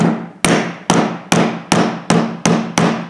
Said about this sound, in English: So I took a little rubber dead blow.